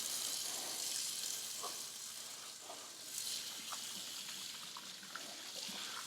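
Running tap water flows steadily at a sink while hands are washed, a continuous hissing splash that stays fairly even and close, with small drips and knocks mixed in and no talking.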